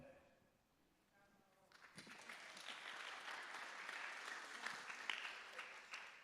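A church audience bursts into sustained applause during a question-and-answer sermon event, clapping building after a quiet start and continuing steadily to the end, dense and mid-distance.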